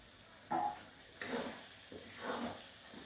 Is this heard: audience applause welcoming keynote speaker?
no